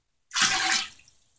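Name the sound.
scooping water out of a clogged drain with measuring cup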